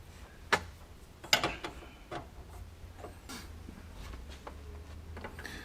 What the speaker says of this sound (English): I'm just rotating the bolt and following it up with an extension.